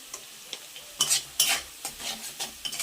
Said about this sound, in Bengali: মশলাটাকে এখন ভালোভাবে কষিয়ে নেব।